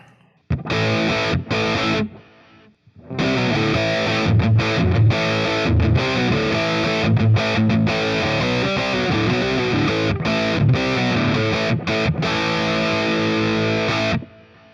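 Heavily distorted electric guitar through an amp simulator plays chugging riffs and chords with a gritty, saturated tone, pausing briefly near the start before continuing loudly.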